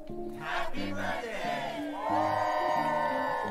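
A canned crowd battle-cry cheer played as a birthday shout-out during a Hollow Knight speedrun stream, several bursts of massed shouting voices rising and falling over roughly three seconds, fairly loud and alone.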